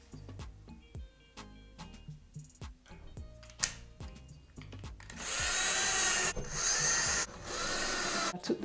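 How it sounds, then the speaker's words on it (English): Power drill driving screws out of the top of a natural wood wall shelf, a few short whirring bursts after quieter handling clicks and taps, then loud sustained drilling runs close by. "I took the screws out the top"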